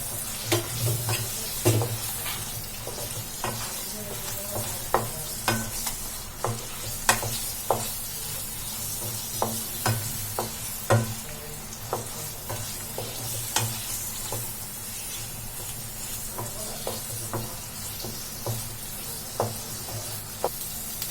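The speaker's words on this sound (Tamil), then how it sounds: "நம்ம ரெடி பண்ணி வச்சிருந்த பணியாரத்தை வந்து இதுக்குள்ள போட்டுக்கலாம். போட்டுட்டு நல்லா மிக்ஸ் பண்ணிடலாம்." Paniyaram made from rava tossed with masala in a hot pan, frying with a steady sizzle while a spoon stirs, scraping and clinking in regular taps throughout, close and fairly loud with no talk.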